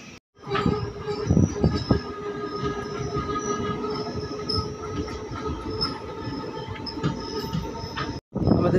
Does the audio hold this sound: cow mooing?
no